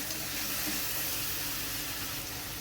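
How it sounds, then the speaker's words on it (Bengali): Ginger-garlic paste masala frying in a pan for a rohu fish and spinach curry, giving a steady, broad sizzling hiss that runs unbroken and fairly close throughout, with no talking. "আবারও ভালো করে মশলাটা ভেজে নেবে"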